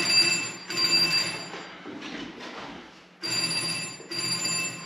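An old telephone bell rings in two long bursts with a pause between, loud and close with a metallic clatter, in a quiet interior with low background murmur.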